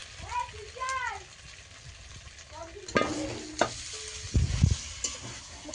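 Spice paste fries in oil during a home cooking challenge, with a low sizzle and a few sharp clanks and scrapes of stirring, while people talk in the background early on.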